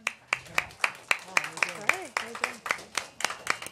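A small crowd at an El Monte anniversary show claps in a quick, steady rhythm for Phyllis P. McNeill. The clapping is modest and close, with a voice speaking over it partway through.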